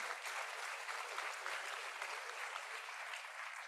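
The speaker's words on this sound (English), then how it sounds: "So clap for yourself as well." University students at an inaugural ceremony clap for themselves, a steady, dense wash of applause from a large crowd, heard faintly from a distance and continuing evenly throughout.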